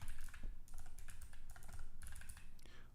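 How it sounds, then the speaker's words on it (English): Rapid typing on a computer keyboard, close and clear, with irregular bursts of key clicks and brief pauses, no voices. "Why is this typing not going well?"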